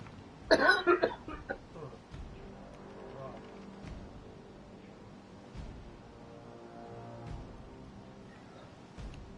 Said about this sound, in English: I am going to cough and it's going to hurt